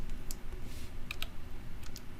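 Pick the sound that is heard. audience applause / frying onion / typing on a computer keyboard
typing on a computer keyboard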